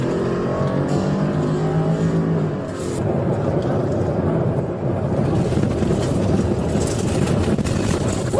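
A stolen police cruiser roars away at high speed, its engine loud and close and climbing in pitch as it accelerates, with steady road and wind noise and no voices.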